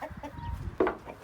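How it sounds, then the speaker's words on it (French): A rooster clucks in short bursts close by during an aggressive attack on a broody hen being moved, its sharp calls loud over rustling in a chicken coop. "C'est l'attaque du coq."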